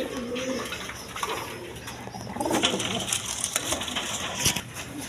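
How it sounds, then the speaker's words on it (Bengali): A pair of high-flying Giribaj pigeons, proven breeding birds, coo in soft repeated throaty rolls close by, with some rustling and clatter from the loft around them. "এখানে এক পেয়ার হাই ফ্লাইং গিরিবাজ কবুতর আছে"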